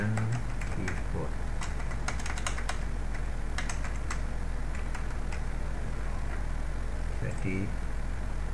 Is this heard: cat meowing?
no